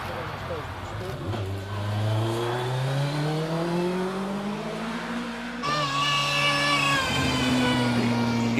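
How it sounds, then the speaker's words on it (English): An E-Type Jaguar climbing the Prescott hill climb, engine revving up through the gears with rising pitch sweeps and a sharp gear change, moderately close, with a commentator talking over it. "E-Type Jaguar"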